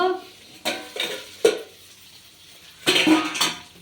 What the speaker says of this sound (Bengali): এই দেখুন আমি ঢাকাটা খুলে দেখব